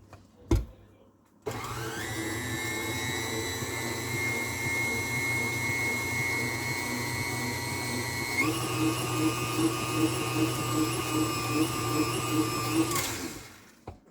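Electric beater whirring steadily while mixing fluff for Thanksgiving, a loud continuous motor whine that shifts up in pitch partway through, then cuts off abruptly.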